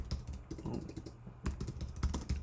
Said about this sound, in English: I'm gonna go ahead and just type in text here.